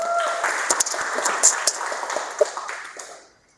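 A lecture audience gives a short round of applause with scattered hand claps. It is fairly close and fades out toward the end.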